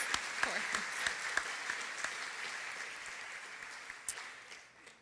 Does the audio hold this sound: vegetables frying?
no